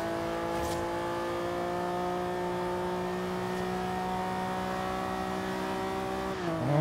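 A Honda NSX engine in Forza Horizon 2 accelerates steadily, its revs climbing as a sustained, moderately loud drone that holds for several seconds before a brief shift and rising surge at the end.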